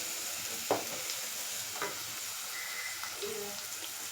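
Onion frying in a pan until browned: a steady soft sizzle with a few brief stirring scrapes, close and alone with no voices.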